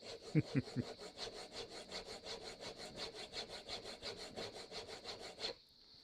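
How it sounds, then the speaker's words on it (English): A steel chisel honed by hand in a honing jig, with close, quiet rasping strokes repeating quickly and evenly, roughly three or four per second, before stopping abruptly. "possibly the most accurate jig for hand sharpening."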